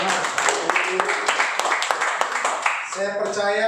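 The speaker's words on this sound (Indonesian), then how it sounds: "Kasih tepuk tangan dulu dong untuk Tuhan." A church congregation at a mission school opening claps in a rhythmic series of sharp, distinct claps, fairly close, before a voice begins talking at the end.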